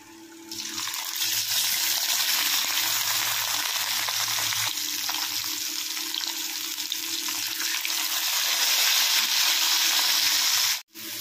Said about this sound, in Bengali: এই যে মশলাটা বেটেছিলাম ওটা দিয়ে আলুটা ভালো করে কষিয়ে নিচ্ছি